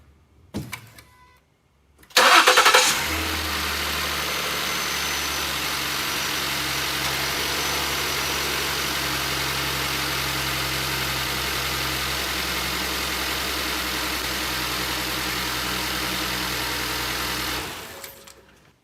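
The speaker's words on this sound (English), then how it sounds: "We can go ahead and start it up and let it idle." A Ford 3.5L EcoBoost engine cranks and catches with a sharp start, then settles into a steady, loud idle hum up close for about fifteen seconds before cutting off.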